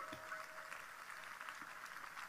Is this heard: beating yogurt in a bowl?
no